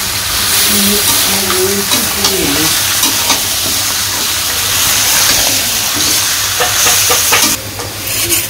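Meat fries with browned onions in a pan, a loud, steady, close sizzle and hiss with stirring scrapes throughout and a few sharper crackling bursts near the end.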